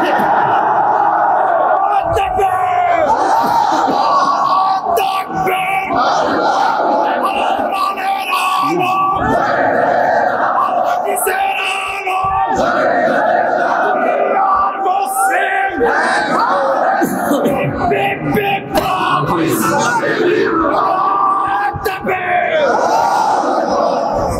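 A large crowd at an Islamic sermon (waz) roars back the takbir chant in loud, sustained unison shouts. Waves of massed voices swell and overlap continuously for the whole stretch.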